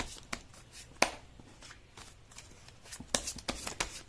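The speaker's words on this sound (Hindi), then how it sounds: "मैं कर लेती हूँ कार्ड की शफलिंग।" Tarot cards being shuffled by hand in soft riffling, slapping bursts with a few sharper snaps, close by and fairly quiet.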